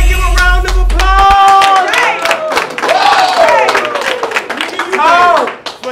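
A rap battle crowd clapping and cheering around loud, excited shouting voices close to the mic, with claps, whoops and vocal hype mixing in a busy, energetic burst.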